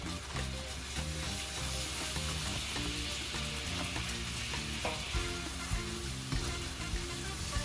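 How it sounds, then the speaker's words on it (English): Pecans coated in sugar are stirred in a pan, giving a steady, close sizzle with soft scraping strokes that run continuously under background music. "So you just want to make sure to keep stirring, but very, very carefully"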